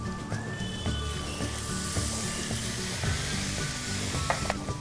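Cauliflower frying in a pan with salt and soy sauce gives a steady, close sizzle throughout, broken by scattered small clinks and stirring knocks from the pan.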